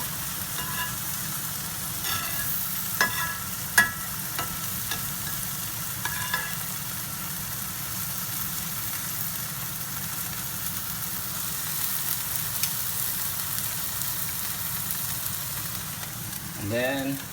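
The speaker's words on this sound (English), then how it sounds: "We're gonna put a little bit of butter on a sizzling plate on the side." Butter sizzling on a hot sizzling plate set beside steak, a steady frying hiss that runs for the whole stretch with a few light clinks and taps.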